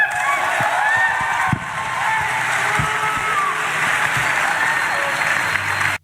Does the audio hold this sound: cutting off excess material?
no